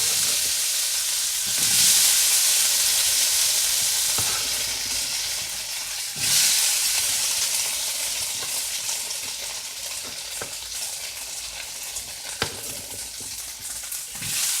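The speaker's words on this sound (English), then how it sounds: "we'll begin by putting the yams in the frying pan. It's already hot with oil" Yam pieces frying in hot oil in a frying pan, a steady loud sizzle with crackling hiss that swells briefly as the pan is stirred, continuous and close with no talking.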